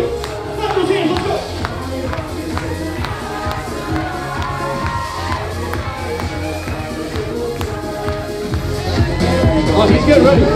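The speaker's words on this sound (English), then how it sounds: "Clap those hands, let's go." Wedding guests at a country club reception clap along to loud dance music, the rhythmic hand claps blending into a dense crowd and music mix that swells near the end.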